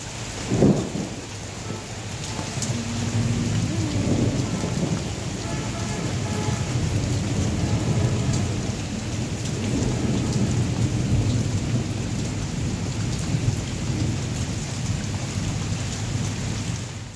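Thunder rumbles low and heavy beneath steady rain and gusting wind, a dense, continuous storm wash that stays loud from start to finish with a sharper crack early on.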